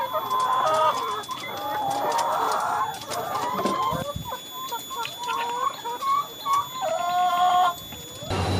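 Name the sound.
laying hens clucking in chicken coop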